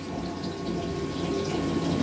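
Water boiling hard in an open pot over an oil-fuelled stove, a close, continuous bubbling roil that holds steady for the full two seconds with no voices.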